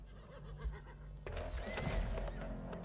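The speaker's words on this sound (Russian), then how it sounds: "Давайте сядем на лошадь." A horse whinnies amid background game music and ambient noise in the action-RPG Weird West, followed by a busier stretch of louder sound effects.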